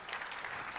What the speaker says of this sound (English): Applause, sure, fine.